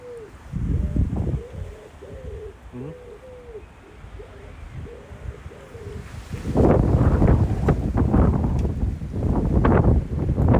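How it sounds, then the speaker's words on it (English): Gusty wind buffets the microphone in low rumbling bursts, growing stronger midway, while a dove coos softly several times early on. "So, sure hope you like wind noise."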